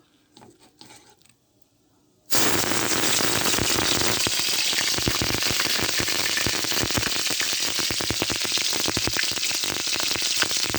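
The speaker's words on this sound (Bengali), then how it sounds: "তেল দেওয়ার পরে পেঁয়াজ বাটা দেবো" Onion paste hits hot oil in a wok and bursts into loud, crackling sizzling that continues steadily after a quiet opening, close and dense with popping spatters.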